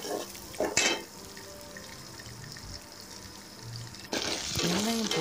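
Small and big onions sauté in oil for a fish curry, with a quiet sizzle and occasional stirring, then a louder burst of frying near the end.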